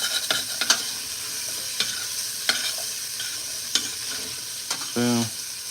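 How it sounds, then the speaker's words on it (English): Celery and other vegetables sautéing in a pan with olive oil for chicken noodle soup: a steady sizzle with scattered scraping stirs, a short tonal beep near the end. "And now I'm gonna saute it all together."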